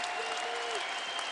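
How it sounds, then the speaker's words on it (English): Arena crowd applauding and cheering during a Gophers basketball home opener against USC Upstate, a brief, steady wash of ovation noise with no clear breaks. "A much-deserved ovation from the crowd here in this"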